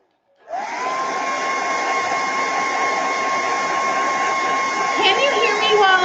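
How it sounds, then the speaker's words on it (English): A hair dryer used to heat-set a Chalk Couture farm transfer switches on and runs with a loud, steady whining roar, its pitch holding constant close to the mic for several seconds. "So I'm going to turn the dryer on for just a minute."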